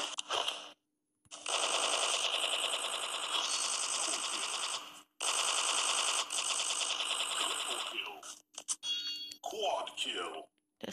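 Loud, sustained bursts of machine gun fire in a video game, long rapid volleys broken by brief pauses, followed by scattered shorter shots near the end.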